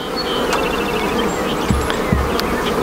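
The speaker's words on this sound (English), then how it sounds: "swiping all the bees off the frames before we do our cuts" Honeybees swarm over hive frames during a hive split, a dense continuous buzzing hum, close and loud, with occasional brief knocks from frame handling.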